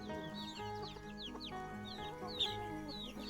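Chickens cluck quietly in a farmyard, scattered short calls over a faint steady background, distant and low in level.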